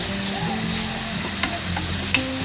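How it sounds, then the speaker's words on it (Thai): Chicken with ginger and dried lily flowers sizzles loudly in a pan as it is stir-fried, a steady hot crackle with a couple of brief utensil scrapes and knocks, close up and free of speech. "แล้วผัดไปเลยค่ะ"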